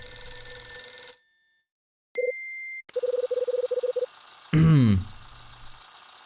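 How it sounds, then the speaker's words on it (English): Telephone ringing in the Last Window game, a short electronic tone followed by a rapid trill of repeated rings lasting about a second, clear and close, surrounded by other game tones and a brief voice-like sound. "this is a bad time for the phone to ring"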